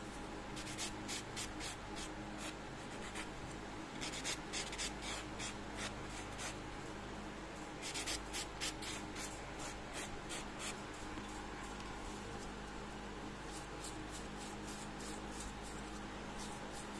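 A block buffer rubs across a fingernail surface during a manicure, giving a steady, close, soft scratching that goes on alone for the whole stretch.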